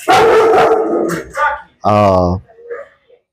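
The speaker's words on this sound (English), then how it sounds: "That was Rocky barking" A dog named Rocky barks in the background, a few short sharp barks that sit close to and partly under a voice while he talks.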